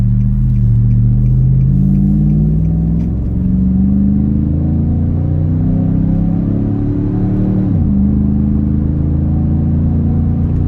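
Nissan Y62 Patrol with a Pacemaker cat-back exhaust accelerating under load while towing a van, a deep, loud engine drone rising steadily in pitch, dropping briefly at a gear change, then climbing again, heard from inside the cabin.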